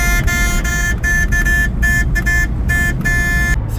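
A limited-edition Smart Brabus sounds its horn in repeated honks, loud and close, a series of short and longer toots in an uneven rhythm over a low rumbling background.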